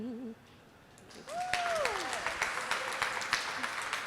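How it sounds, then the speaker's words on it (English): Applause at an outdoor LGBTQ flag raising ceremony: a crowd claps steadily and fairly loudly for a few seconds after a short song fragment, with scattered cheers mixed in. "Big round of applause for Commissioner Santos and Hanifa."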